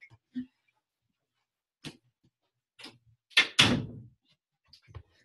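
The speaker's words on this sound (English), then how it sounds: "Let me shut my door here quick." A household door is shut, with scattered handling knocks and latch clicks, then a firm thud of the door closing, near and fairly loud against a quiet room.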